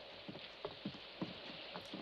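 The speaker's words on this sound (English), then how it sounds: "It's pouring out there." Heavy pouring rain from a scene in the Friday the 13th film makes a steady, dense hiss, with close, irregular drip and splash taps scattered through it.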